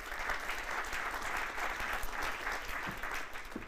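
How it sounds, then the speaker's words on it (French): Sustained applause from an audience at an awards evening in France, steady and dense throughout with no speech over it. "Merci beaucoup Ariane, merci de l'applaudir"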